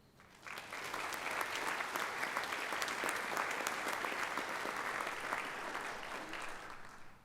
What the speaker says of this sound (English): Please let us recognize all of the new Honor Society initiates with a round of applause.